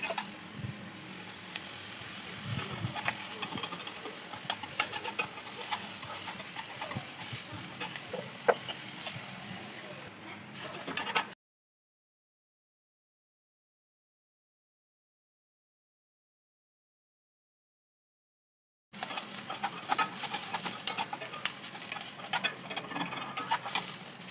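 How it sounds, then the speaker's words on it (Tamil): Onions frying in oil sizzle and pop while being stirred until golden, a close, crackling patter with scraping clicks, broken by a long stretch of silence before the sizzling resumes. "வெங்காயம் பொன்னிறம் வரும் வரை கிண்டிக்கொண்டே இருக்கவும்."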